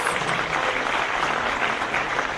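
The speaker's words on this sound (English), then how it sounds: "Can you guys give yourselves a round of applause?" An audience at a customer experience presentation applauds in a brief, dense burst of many hands clapping, steady throughout and with no talk over it.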